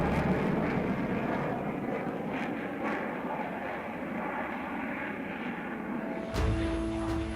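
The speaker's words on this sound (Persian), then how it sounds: "F4 kind of makes a howl as it's coming and as it's leaving, quite the roar from these engines." F-4 Phantom jet engines roar steadily at a distance, a broad sustained wash of noise that holds level throughout before a brief tonal sound cuts in near the end.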